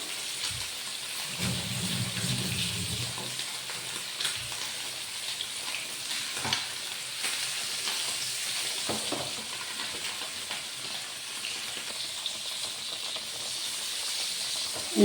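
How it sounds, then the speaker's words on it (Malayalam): Pieces of fish fry in oil in a pan, giving a steady close sizzling hiss with occasional soft stirring scrapes and faint knocks, no voices present. "കുറച്ച് വറുത്തെടുക്കാം."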